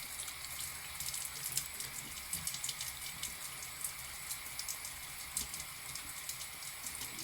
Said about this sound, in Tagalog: Hugasan mo natin basain mo muna natin yung mukha natin